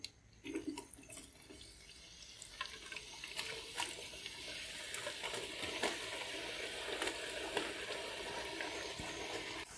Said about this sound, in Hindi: अब हम चिप्स फ्राई करेंगे।